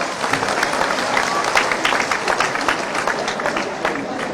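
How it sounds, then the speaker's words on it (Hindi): Dense applause from a crowd at a political rally for Shivraj, clapping steadily and loudly throughout with a busy, close wash of hands. "इस बेटी के लिए ताली बजाओ"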